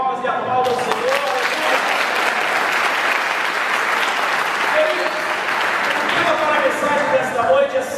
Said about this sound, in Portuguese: Quem crê, bate palmas e aplauda o Senhor.